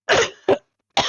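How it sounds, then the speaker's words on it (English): A person coughs twice in quick succession, then a third cough starts a moment later. The coughs are close and fairly loud, with no talk. "Sorry about the cough, everybody."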